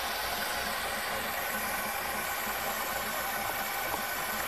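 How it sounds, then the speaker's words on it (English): A white Chevy Caprice classic station wagon idles after a cold start, giving a steady, even engine hum with broadband hiss that holds unchanged throughout, with no talk over it. "Just leave it idling for a minute."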